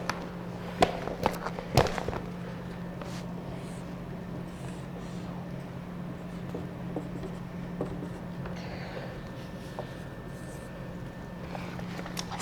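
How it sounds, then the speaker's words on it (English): Students drawing a figure in their notebooks in a primary classroom, faint pen or pencil scratching on paper with a few sharp taps early on and a steady low hum behind. "draw the figure on your notebooks"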